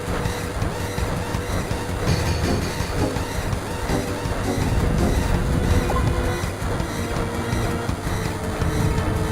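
A train rumbles along its rails in a Final Fantasy video game, a continuous dense roar with rattling and clatter, steady and fairly loud throughout without speech.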